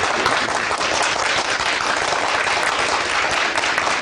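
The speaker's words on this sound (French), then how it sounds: "Ça s'applaudit, s'il vous plaît" Steady, dense audience applause fills the room after a radio-television interview with a guitar-playing artist, loud and continuous with no voices over it.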